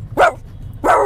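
A person imitates a dog barking, giving two short, loud, close barks about half a second apart, with no other talk.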